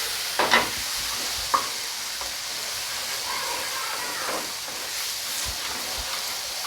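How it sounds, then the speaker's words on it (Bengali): A spicy tomato egg curry masala sizzles in a pan while a utensil stirs it, a steady hiss of frying with a few short scraping clatters near the start, close and fairly loud. "এবার ঢাকনাটা তুলে দেখি নাড়াচাড়া করে দিব"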